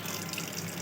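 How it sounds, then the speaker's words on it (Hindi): Water runs steadily from an opened sink tap during handwashing, a soft continuous hiss and splash, faint and brief with no voices over it. "पानी खोल दिया मैंने"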